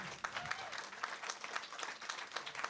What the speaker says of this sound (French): J'aimerais ça qu'on applaudisse l'équipe de GFS, Kim.